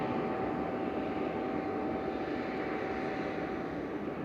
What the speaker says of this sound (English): So it's using its snow blower basically to blow the grass off the runway.